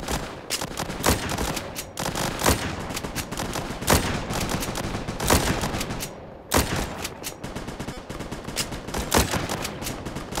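Dense video-game gunfire in a war match, rapid loud bursts of automatic shots and repeated rifle cracks, close and nearly continuous, with no talk.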